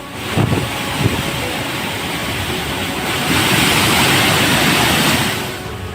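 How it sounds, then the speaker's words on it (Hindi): A waterfall pours down from a mountain in full flood, a loud, steady roar of rushing water close by that swells louder midway and holds on throughout. "पहाड़ से गिरता झरना अपना रौद्र रूप दिखा रहा है।"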